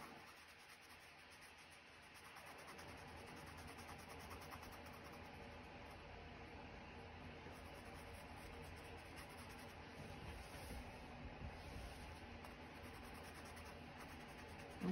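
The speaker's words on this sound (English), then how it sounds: "And I'm just going through with my pencil again" A pencil rubs and scratches across sketchbook paper during a mixed media painting session, with soft continuous strokes that stay faint and close.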